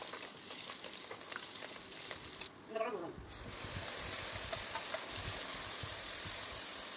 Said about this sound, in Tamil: ஒரு பெரிய வெங்காயத்தை நான் சேர்த்திருக்கேன் சேர்த்து இதையும் நல்லா வதக்கி விட்டுக்கலாம்